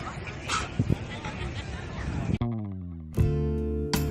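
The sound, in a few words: dogs barking and yipping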